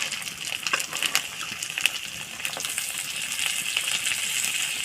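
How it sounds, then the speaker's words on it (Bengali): Chopped tomato and potato fry in a pan for a jatka fish chorchori, a close, wet sizzle with sputtering pops and crackles that settles into a steadier hiss, no one speaking. "টমেটো আলু একটু সুন্দর করে ভেজে নেব"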